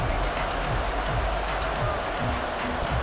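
A stadium crowd roars and cheers continuously in a Madden 24 football video game, a dense broad wash of noise holding steady throughout the short stretch.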